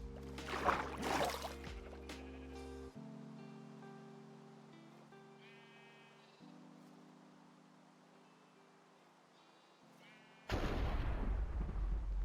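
Thunder from a thunderstorm in the Minecraft video game: a loud crack and rumble opens, the sound settles into quiet game tones, then another heavy rumble bursts in near the end.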